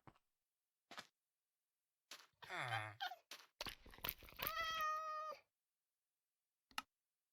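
Cat meows from a Minecraft game, several short mewing calls scattered across the moment with a longer drawn-out meow near the middle, fairly close and clear, with game clicks around them.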